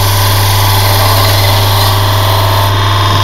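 A wood lathe turns a captive ring while a detail gouge works the spinning wood, giving a loud, steady, close motor hum with a continuous droning buzz and no breaks.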